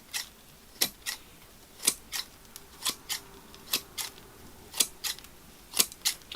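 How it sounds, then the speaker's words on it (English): Long stainless steel scissors pruning a tree's long shoots, giving crisp snipping clicks in a loose rhythm, sometimes in quick pairs, about a dozen cuts heard close and alone. "these are just regular stainless steel scissors I'm using"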